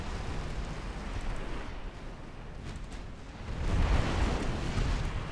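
Shell hitting the German warship SMS Seydlitz during a naval battle in UA: Dreadnoughts: a dull, rumbling impact with a swell of low roar in the second half, steady noisy background of distant gunfire and sea, no voices.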